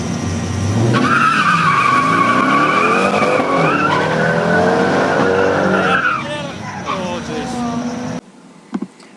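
A Monaro spins its tyres hard on launch at the Heathcote drag strip, giving a loud, sustained tyre squeal over a roaring engine for several seconds before it cuts out, with voices partly over it.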